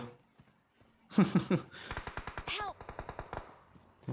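Bursts of automatic gunfire in the mobile battle-royale game PUBG Mobile, with rapid close shots in quick rhythmic strings and a voice over parts of it.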